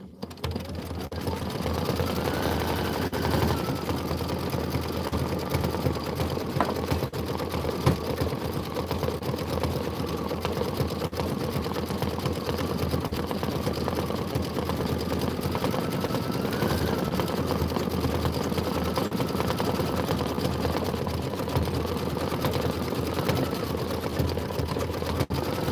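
Sewing machine quilting a Kimberbell Let It Snow pillow, a steady mechanical whir running continuously at an even level close by, with no talking.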